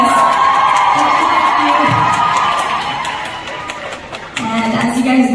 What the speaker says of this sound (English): thank you so much for cheering for us